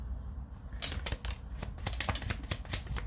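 Tarot cards shuffled by hand, a quick run of crisp riffling flutters and taps, close and fairly loud with no talk.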